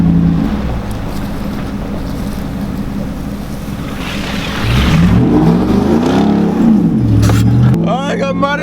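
A pickup truck on new Toyo rear tires revs and plows through a muddy ditch, engine surging with rising and falling pitch over splashing rumble, close and loud, and a voice speaks at the end.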